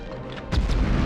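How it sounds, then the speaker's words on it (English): A grenade explodes and wrecks a cannon in the video game Medal of Honor Underground, giving a sudden loud boom halfway through with a low rumbling tail after a quieter stretch of game noise. "that nade did blow up right on us"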